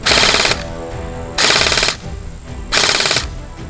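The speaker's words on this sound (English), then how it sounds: "Now we're going to switch to full auto." A BOLT B4A1 SOPMOD airsoft rifle fires on full auto in three loud, sharp bursts of rapid rattling shots, each about half a second long, separated by brief pauses.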